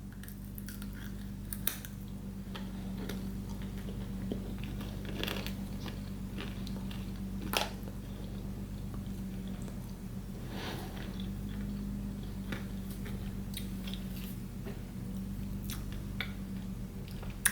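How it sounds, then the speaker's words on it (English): Honey almond brittle crunched in slow, careful bites, a few soft scattered crackles and clicks standing out over a steady low room hum, close and quiet with no talking. "But I'm like chewing very carefully."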